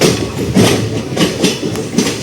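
The Garudadri Express rolls along the tracks after leaving Avadi station, its wheels beating out a loud, regular clickety-clack over a constant rumble, with no voices.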